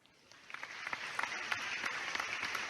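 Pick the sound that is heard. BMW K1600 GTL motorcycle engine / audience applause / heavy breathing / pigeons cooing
audience applause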